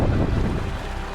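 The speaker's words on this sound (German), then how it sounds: "Der Wind ist allgegenwärtig, so stark, dass selbst zu Fuß jeder Schritt zur Arbeit wird." Strong, gusty wind on the Isle of Lewis in Scotland buffets the microphone outdoors, a loud continuous roar with heavy low-end rumble and no voices.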